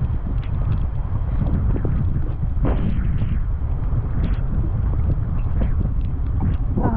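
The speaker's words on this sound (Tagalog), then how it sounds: "lakas ang hangin." Strong wind roars by the sea in a dark, stormy spell, a continuous loud rumbling gust buffeting the microphone with no voices for the whole span.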